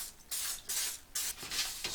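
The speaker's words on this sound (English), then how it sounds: "So I'm going to give a little dusting of cooking spray." Three or four short hissing bursts of cooking spray land on a worn, old non-stick baking pan, close and fairly loud, with brief pauses between sprays.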